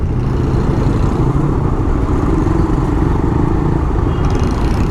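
A Raider 150 Fi motorcycle with a 36mm throttle body, 10-hole injector, 51mm elbow and stock ECU runs at a steady, loud, rumbling idle, close by and constant with no talk.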